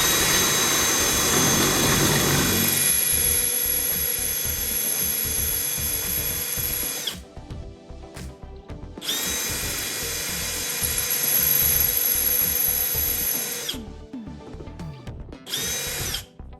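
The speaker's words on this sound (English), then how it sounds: "So this is what drilling out rivets looks like." A drill bores out rivets on an aircraft wing spar during a Rans S-21 build: loud, close, high-pitched whining bursts of roughly seven and five seconds, separated by short pauses, then a final brief burst, with no talking.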